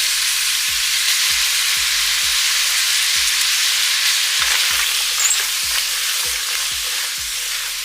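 Vegetables sweat in a pot for beef short ribs with a loud, constant sizzle, while low thuds of stirring recur at a regular pace throughout.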